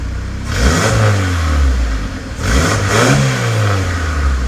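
A car engine fitted with a wastegate fire ring revs up and down a few times from a steady idle, heard from the rear, a deep throaty exhaust note close by, loud with no voices.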